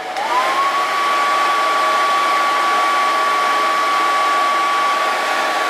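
A Bluetti AC2A power station runs a heater with its fan, and a steady, loud whirring blow starts within the first second and holds unbroken throughout, with a faint high whine riding on top.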